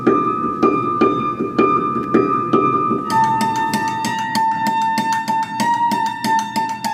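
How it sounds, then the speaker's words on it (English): Naked strings of an upright piano, action removed, struck with mallets and drumsticks: a slow series of resonant thuds with ringing tones, then a faster, brighter run of repeated sharp taps over sustained metallic overtones, up close. "I played the naked strings with mallets and drumsticks."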